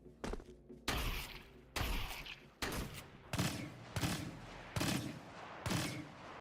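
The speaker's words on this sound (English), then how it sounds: "It's essentially a blaster shotgun." Blastech EE4 blaster shotgun firing in a video game: about eight loud, punchy blasts at a steady rhythm, each with a sharp crack and short decaying tail, up close with no voices.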